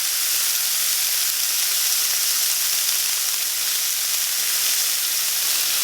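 Tomatoes with spices sizzle in a hot pan for a brown-butter tomato relish, giving a steady, loud, bright hiss that carries on without a break.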